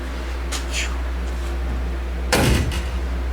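An MGA car door shuts with a single solid thunk near the end, following a few faint handling noises against a steady low hum.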